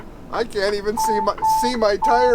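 Inside a truck cab, a steady electronic warning alarm sounds as two sustained beeps at about one and a half seconds, close and clear, interleaved with someone talking throughout.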